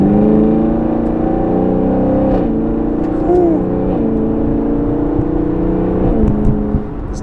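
A car fitted with a 10-speed transmission drives along with a steady engine whir from inside the cabin, and its pitch steps smoothly through gear changes at a constant loudness.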